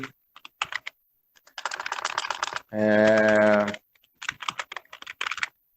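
Fingers type on a computer keyboard while entering text into a spreadsheet, making bursts of close, crisp key taps split by short gaps, with one steady sustained tone partway through.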